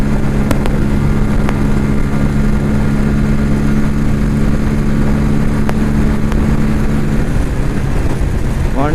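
A Bajaj Pulsar N160 motorcycle on the move, its engine drone steady and loud under constant wind rush, with a few faint clicks and no voices.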